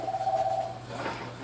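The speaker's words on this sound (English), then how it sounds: "Phone is ringing" A telephone rings with a short warbling electronic tone that lasts under a second and then fades into a quiet, humming room during a live arcade and pinball machine sale.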